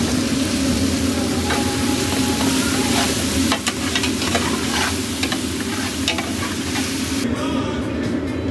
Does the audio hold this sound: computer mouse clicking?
no